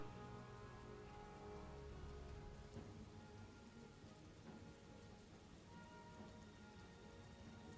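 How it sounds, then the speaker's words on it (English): Steady rainfall in a video game world, a dense even hiss of drops with low rumbling beneath, constant throughout with no voices. "Only when it's raining though, not when it's snowing."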